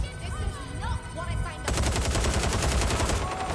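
Rapid automatic gunfire in the video game Watch Dogs Legion breaks out midway and keeps rattling loudly in a dense, steady stream, following a stretch of voices and game sounds.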